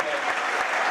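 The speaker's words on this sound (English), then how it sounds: "A lot of the Hawk fans are even up cheering for" A crowd of wrestling fans at the Big Ten Championships applauds and cheers in a steady, dense wash of clapping that fills the arena throughout.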